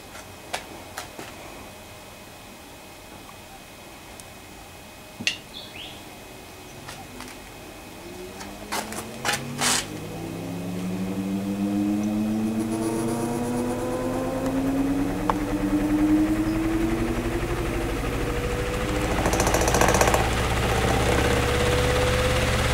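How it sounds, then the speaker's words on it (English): An old, grease-covered electric fan with a wonky blade spins up after a few scattered clicks and knocks, its motor hum rising steadily in pitch as it gains speed and runs on loudly, up close. "it's a thing of beauty, this old fan"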